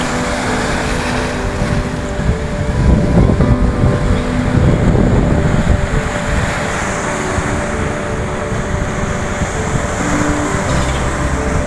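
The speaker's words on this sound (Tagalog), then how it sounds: "Lalaki ng alon guys." Big ocean waves at a rocky shore, a continuous loud roar of surf with surges building and washing, heavy wind buffeting the microphone, no talking.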